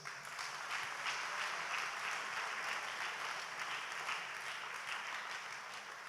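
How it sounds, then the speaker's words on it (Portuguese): A church congregation applauds during a sermon, producing a steady, even wash of many hands clapping that sounds somewhat distant and continues without a break or any voices. "Dá uma salva de palmas a essas pessoas."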